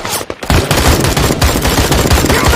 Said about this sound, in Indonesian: Ternyata tembakan itu berasal dari Chonin dan pasukan Rusia yang dari semalam mengejar mereka